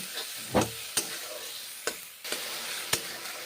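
Spices being stir-fried in mustard oil in a pan, with a steady sizzle and a few sharp scraping stirs of the spatula, up close.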